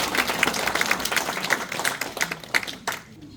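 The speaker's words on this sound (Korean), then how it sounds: "다시 한번 박수 한번 드립니다" Church members at a hypertension nutrition lecture give a round of applause, brisk uneven clapping from a modest group with a few loud hand claps, fading out at the end.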